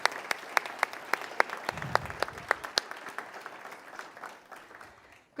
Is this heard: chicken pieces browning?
no